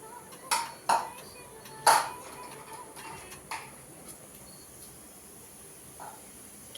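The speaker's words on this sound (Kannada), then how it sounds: "ಕಿಚನ್ ಪ್ರತಿಯೊಂದು ಪಾತ್ರೆನೂ ಎಲ್ಲ ತೆಗ್ದು ತೊಳ್ದು, ಬಾಕ್ಸೆಲ್ಲ ತೊಳ್ದು" Kitchen utensils and storage boxes washed during a deep household clean: a few sparse, faint clinks and knocks of dishware over a quiet room, with no talking.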